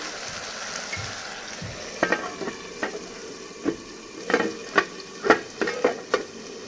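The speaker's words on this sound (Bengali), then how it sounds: "মশলাটা ভাজা ভাজা হয়ে গেল" A steady soft sizzle of spices frying in a pan with eggplant, broken up by a run of light scraping taps from stirring.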